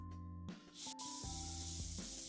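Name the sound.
airbrush spraying paint on a model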